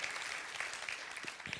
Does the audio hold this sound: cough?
no